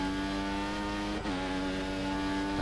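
Formula 1 car engine in the F1 2014 racing game at Bahrain, a high sustained whine holding steady with a brief dip like a gear change midway, loud and continuous.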